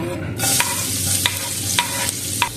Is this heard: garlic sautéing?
yes